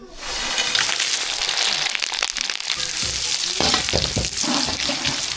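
Whole spices such as cinnamon sizzle loudly in hot oil as the tempering for dalcha served with mutton biryani, a close, continuous frying hiss with a few stirring clatters and no talk.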